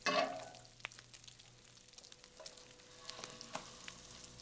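Soft, steady sizzling and crackling of French toast frying in butter and oil in a pan, quiet and close, with a few louder pops and scrapes.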